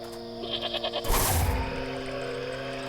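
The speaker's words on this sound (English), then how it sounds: "Terrified, the skittish sheep nearly jumps out of his pelt in horror." Panicked sheep bleating from the video game Wytchwood: a short, loud burst of frightened bleats over the game's steady background music and ambience.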